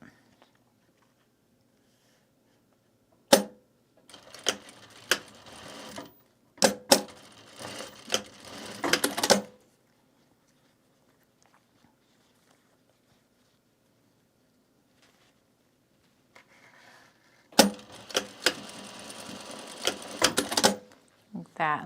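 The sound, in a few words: sewing machine stitching bag fabric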